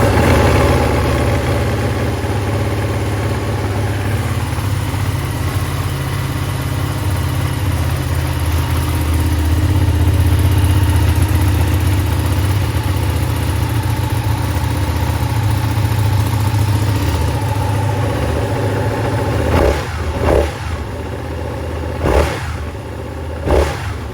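A cold 2016 Ducati Panigale 959 motorcycle engine idles close by, a loud steady low rumble with a few short throttle blips near the end, no talking.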